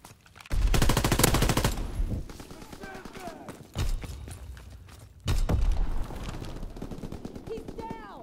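A WW2 fighter plane's strafing run in the Call of Duty WW2 video game produces loud bursts of rapid gunfire, one long burst and two shorter ones, with voice-like game sounds between the bursts.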